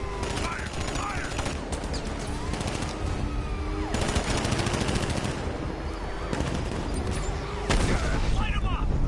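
Sustained rapid gunfire fills a Batman: Arkham Knight battle, with dense bursts of automatic shots and booms continuing throughout, loud and close, while voices shout over it.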